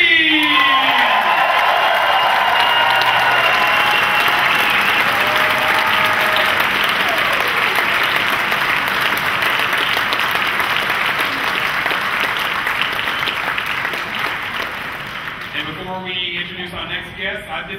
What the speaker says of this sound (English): Let's give a nice round of applause for a fantabulous magician known as Mr.